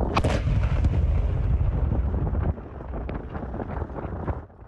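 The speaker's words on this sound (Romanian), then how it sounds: "Această explozie puternică a fost filmată aseară în orașul Melitopol, din sudul Ucrainei" A powerful explosion at night in Melitopol, southern Ukraine: a sharp loud blast opens into a heavy rumbling roar that fades after a few seconds, followed by scattered distant cracks.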